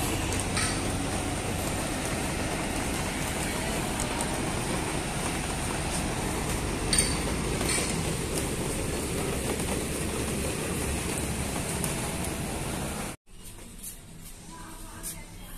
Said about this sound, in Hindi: देखो धूप भी लगी है और बारिश भी हो रही है।